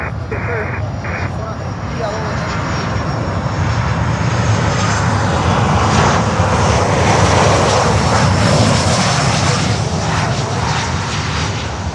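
Engines of an Airbus A330-900 airliner at Miami airport roar in a loud, steady, broadband rumble that holds for the whole stretch, with voices faintly mixed underneath.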